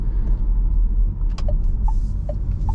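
A Renault Arkana 160 HP mild hybrid SUV in sport mode gives a steady, loud, low engine rumble heard from inside the cabin at night, with a few faint clicks over it.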